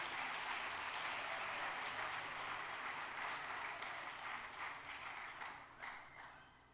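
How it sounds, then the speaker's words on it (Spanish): Church congregation clapping loudly in dense, steady applause throughout a sermon, fading slightly toward the end. "Dale fuerte palmas al que vive."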